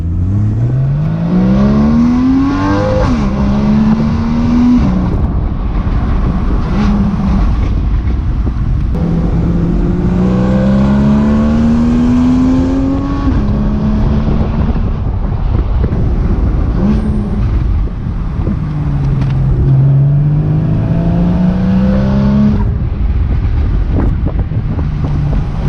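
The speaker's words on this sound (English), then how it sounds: "let's get driving and let's hear that wonderful exhaust sound." A custom Porsche 981 with a titanium exhaust and upgraded IPD plenum driving on an Arizona highway, its engine rising and falling through repeated revving gear pulls, loud and close with wind noise.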